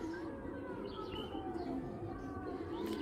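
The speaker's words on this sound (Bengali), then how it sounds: "এটাও একটা বেলজিয়ামের নর।" Low, rolling coos come from a Belgian male racing pigeon, sustained and close for a few seconds, with faint higher chirps from other birds now and then.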